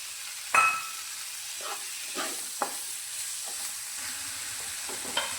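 A spoon stirs chopped tomatoes into a dahi tadka frying in a pan, giving a soft steady sizzle with a few sharp scrapes and clinks, fairly quiet and close, no talking.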